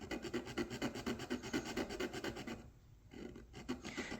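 Steady rasping of a file drawn back and forth across a wooden hull plank on a model sailing pram, in quick regular strokes, close up, with a short pause before the strokes resume.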